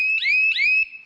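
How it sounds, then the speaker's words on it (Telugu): A Bharat baler automatic control unit blares its horn alarm at high volume: a loud, close, rising warble that repeats twice in quick succession, then cuts off. "హారన్ సౌండ్ వచ్చి మనం 100 పెట్టినారనుకో"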